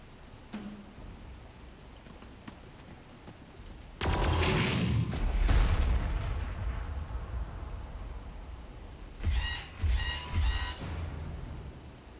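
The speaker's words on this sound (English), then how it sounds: "These are Penal Legion with las guns versus flamethrowers." Penal Legion troops firing las guns against flamethrowers in the Warhammer 40K Armageddon video game: a loud burst of battle noise with roaring blasts and crackling shots, then a sequence of quick repeated zaps near the end.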